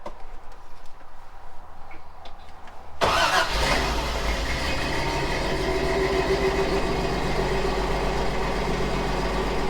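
A car engine cranks and fires after a few seconds of quiet background noise, then settles into a steady, loud, close engine drone as the car pulls away and keeps driving.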